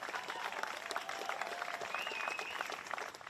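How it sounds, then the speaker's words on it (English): A big round of applause from an audience at a formal press conference, steady broadband clapping sustained for a few seconds at moderate volume and fading slightly at the end. "How about a big round of applause for the #1 team in the world?"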